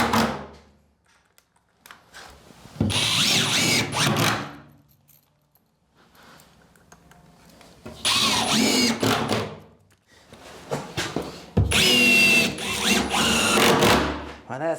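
A power drill fixes plasterboard boards in place during double boarding, with several bursts of whirring driving, separated by quieter gaps with handling clatter, close by.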